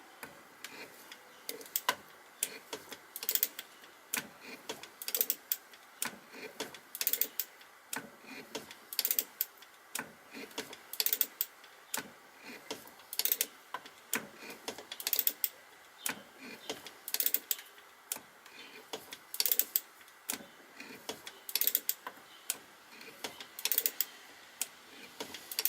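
A hand-operated shaping machine makes a cutting pass across the work, giving faint, regular ticking clicks with each stroke, steady and quiet throughout with no talking.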